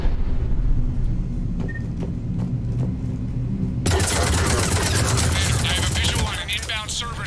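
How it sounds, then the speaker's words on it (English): Heavy cannon fire from a Cerberus cruiser in the video game Mass Effect 3 bursts into a dense, roaring barrage of explosive blasts that runs on continuously, loud and rumbling, after a quieter stretch with faint game sounds and voices. "The cannon fire is clearing the way."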